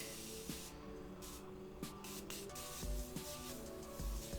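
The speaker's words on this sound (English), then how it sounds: "but this setting spray is so nice" A Morphe continuous setting mist sprayed in a long, steady, soft hiss, faint and close, with a few small clicks underneath and no talk.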